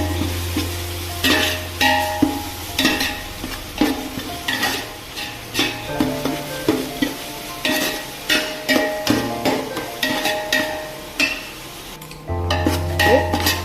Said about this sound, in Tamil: தக்காளி வெங்காயம் இந்த மாதிரி நல்லா வதங்கிடுச்சு.